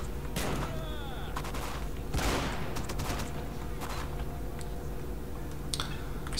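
Gunfire in the S.T.A.L.K.E.R. New Arsenal mod: several sharp shots and short bursts ring out at irregular intervals over a steady, dense game ambience.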